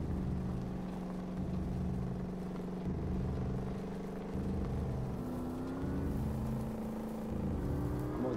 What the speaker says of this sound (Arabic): اي هاي السيارة الطابقة